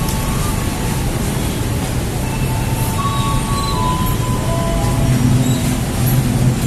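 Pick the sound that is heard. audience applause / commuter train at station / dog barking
commuter train at station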